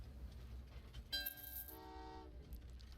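A passenger train in the video game Train Valley 2 sounds a short two-tone horn blast over a low, quiet rumble of running rails, the toot lasting about a second before fading back into the soft background hum.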